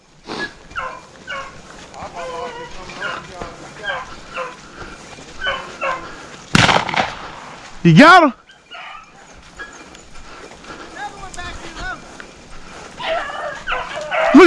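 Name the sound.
hunting dogs barking while chasing rabbits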